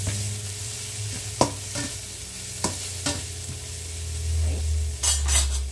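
Food sautéing in a frying pan for breakfast, a low sizzle with sharp spatula clicks and scrapes against the pan, the frying growing louder toward the end; a single short word is spoken.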